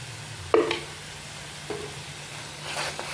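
Ginger garlic paste is stirred into a hot pan while cooking raw banana sabzi: three short spoon scrapes over a faint, steady sizzle.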